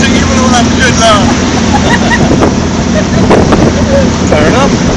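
A speedboat runs fast across the water on a stag day outing, its engine a loud, steady roar mixed with wind buffeting and hull slap, while people talk over it.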